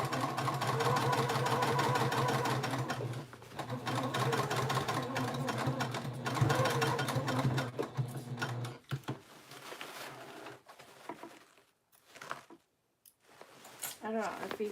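A sewing machine runs steadily while stitching a basic tote bag, its motor hum continuous for most of the stretch before stopping, with a person talking over it throughout.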